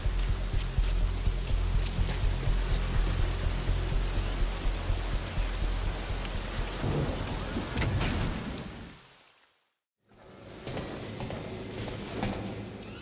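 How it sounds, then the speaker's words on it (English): Rain falls steadily in Metal Gear Solid V, a dense, loud wash of patter with low rumble that fades out to silence near the end before the ambience returns more quietly. "And it looks like it's started to rain."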